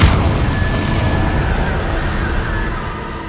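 A spell cast in the Hogwarts Legacy video game during combat gives a loud, sustained booming blast with a broad rumbling tail that slowly fades, continuous throughout with no talking.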